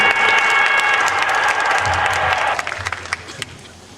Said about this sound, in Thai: ขอเสียงปรบมือด้ครับ